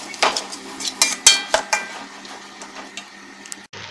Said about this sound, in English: Jadi kita adukkan rice, okay?